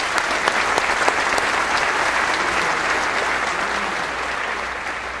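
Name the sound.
audience applause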